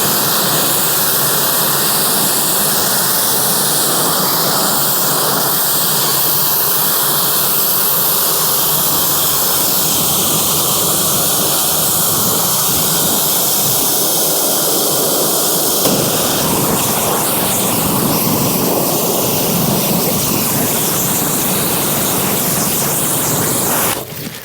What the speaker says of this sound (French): Et là, je vais rincer avec la pression.